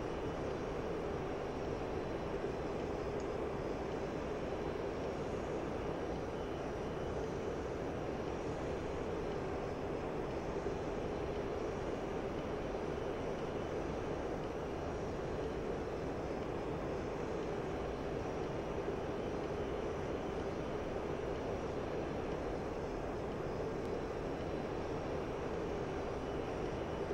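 Steady, dense jet roar from a Mirage F1EE fighter in the flight simulator DCS World, a continuous loud broadband drone holding evenly throughout with no talk over it.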